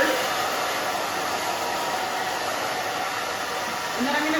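Steady, loud hair dryer blowing throughout as it dries the crown of a thick-haired pixie cut forward, a continuous even rush with a slight swell near the end.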